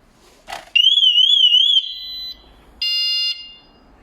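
A motorcycle alarm system on a Ducati Multistrada 950 arms with a sharp chirp, then a loud warbling electronic tone followed by shorter steady beeps, close and piercing against a quiet background.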